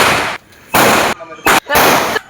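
Olai pattasu palm-leaf firecrackers go off in a quick series of three loud, sharp bursts close by, separated by short gaps of quieter background.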